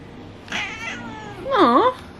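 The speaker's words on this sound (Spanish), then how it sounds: "Gatito." A cat meows twice up close, first a short wavering call and then a louder, drawn-out meow with a rising and falling pitch over quiet room background.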